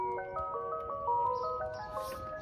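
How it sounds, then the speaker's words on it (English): Tesla Model 3 pedestrian warning sound set to an ice cream truck style tune: a clear, repeating electronic melody of chiming notes, moderately loud over low road rumble. "you even if you want to sound like the ice cream truck going down the road"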